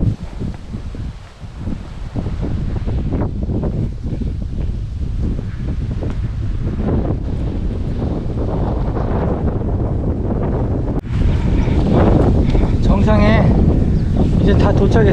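Strong gusts buffet the microphone on a mountain summit, roaring loudly and continuously with a harsher burst near the end, and a person speaks briefly under the wind.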